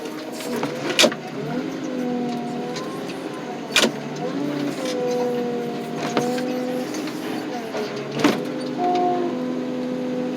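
A car crusher flattens a 1996 Chevy extended cab truck outdoors on a muddy, rainy day: a steady machine whine with shifting tones, broken every few seconds by sharp loud cracks and crunches of metal.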